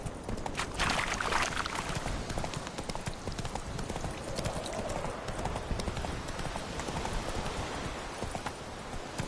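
Roach, Geralt's horse in The Witcher 3, trots with dense, steady hoofbeats close by, a continuous clopping rhythm throughout with a faint voice briefly underneath.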